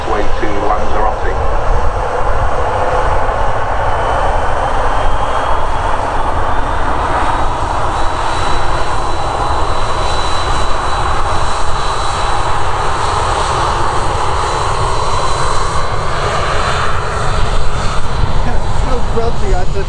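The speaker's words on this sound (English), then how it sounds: "So the aircraft just about to take off. Like I say, Boeing 757-200." A Jet2 Boeing 757-200 roars loudly and steadily through its takeoff run at Manchester Airport, a sustained broadband engine rumble with a rising whine that holds throughout, with people talking nearby beneath it.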